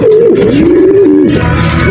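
A pigeon coos close by, a low, rolling, throaty call that wavers in pitch and runs on steadily.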